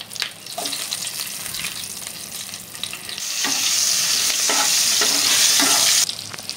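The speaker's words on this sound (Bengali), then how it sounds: "মাছ ভাজার পর যে তেলটা কড়াইয়ে থাকবে, এরপর তার মধ্যে ফোড়নে ব্যবহার করব কালো জিরে আর কটা কাঁচা লঙ্কা।" Black cumin seeds and green chillies hitting the hot oil left in a wok after frying hilsa fish, a loud spitting sizzle with stirring scrapes that swells into a denser, hissing roar about halfway through.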